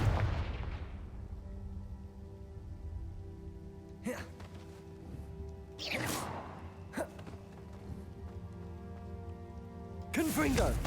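In Hogwarts Legacy, the Confringo blasting spell bursts out in several sharp, loud cracks spaced a few seconds apart, over a low rumbling background.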